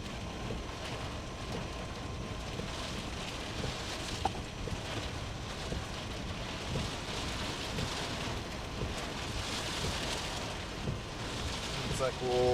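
Steady rain pours during a strong Texas thunderstorm with gusty winds, a constant broadband wash running through the whole stretch with faint low rumbles, and a voice talking underneath.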